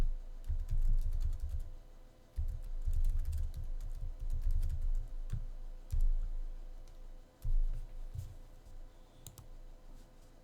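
Someone types on a computer keyboard while programming, a steady stream of close clicking keystrokes in short bursts over a low hum, with no talking.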